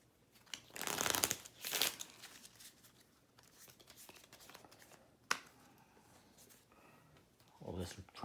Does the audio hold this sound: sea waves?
no